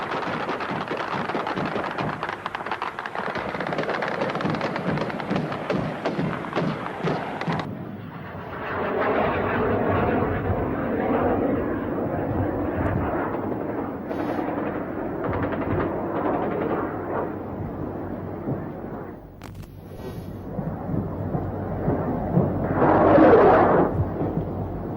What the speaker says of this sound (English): Two rockets are fired, chasing across the sky. One missile locks onto a target and explodes.